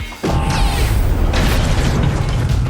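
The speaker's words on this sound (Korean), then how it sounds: "전투 중 경비가 드렉스에게 대포를 쏘는 장면은" A guard fires a cannon at Drax in a battle on the planet Orgo in Guardians of the Galaxy Vol. 3: one sharp, loud boom followed by a heavy rumbling burst that carries on.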